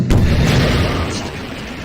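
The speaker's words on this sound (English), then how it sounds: "The cool thing about the RPG is when you fire it" An RPG rocket launcher firing in the video game Garry's Mod, a loud close boom with a low rumbling roar that trails off over about two seconds, no talking.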